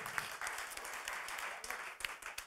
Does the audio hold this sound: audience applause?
yes